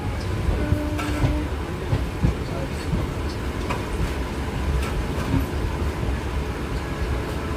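Train slowing into Bardhaman station, continuous close rumble and rattle of carriages with soft rhythmic clickety-clack and occasional faint wheel squeal, from inside the coach.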